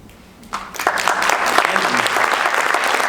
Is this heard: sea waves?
no